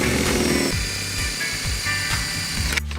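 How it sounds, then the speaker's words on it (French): Power drill boring through a wooden floorboard after the first row of boards is lifted, a loud steady whine with pitch dips as the bit bites, running continuously close up and stopping near the end. "percer la lame."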